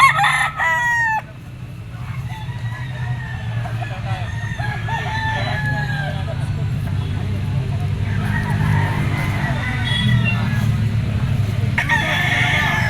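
Several roosters, fighting cocks at a pet market, crow loudly nearby, long rising calls one after another, over a busy outdoor background with voices and passing traffic.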